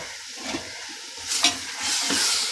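Raw carrot and beans go into a hot pan for vegetable biryani, with a loud sizzle followed by scraping stirs that build over a couple of seconds.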